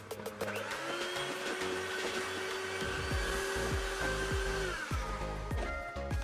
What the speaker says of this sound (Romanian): amestecăm iarăși la viteză mică